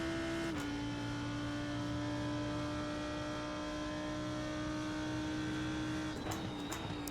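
A race car engine in iRacing held at full throttle, a loud sustained droning whine with a steady pitch, briefly lifting near the start and shifting again toward the end.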